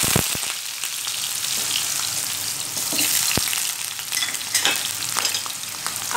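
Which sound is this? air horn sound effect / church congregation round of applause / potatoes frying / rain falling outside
potatoes frying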